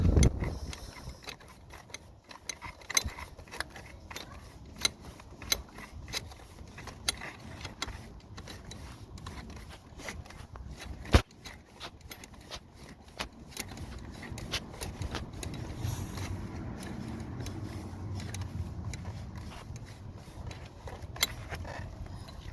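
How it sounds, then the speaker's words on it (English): A ratchet tightening the top starter motor bolt on a Mitsubishi Lancer Carisma, worked outdoors in the dark, giving faint repeated clicking bursts with a louder clack partway through, close and without talk. "That's the top bolt, which I've just tightened."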